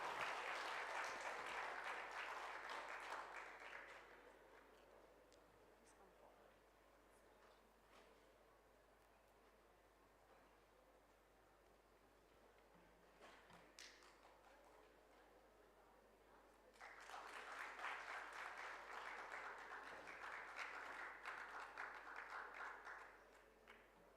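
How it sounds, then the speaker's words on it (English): Audience applause for the presenters at a G20 India event on deep tech and the future of work, a sustained burst of clapping at the start, a quieter stretch of scattered claps, then a second strong round near the end. "Can we have a big round of applause for them"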